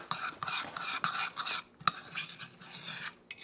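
Spoon scraping and stirring keto chocolate chip cookie batter in a cup, a close series of light clinking and scraping strokes with a sharper tap near the middle, no voices.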